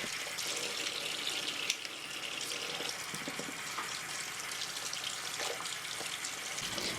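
Water runs steadily from a tap for several seconds while makeup brushes are rinsed under it, a constant close hiss and splash with small clatters, and no voices.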